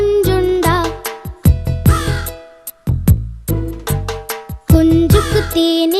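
Crow cawing in a Tamil children's cartoon song, a series of loud, harsh caws in uneven bursts, some clipped and some drawn out, standing alone without singing.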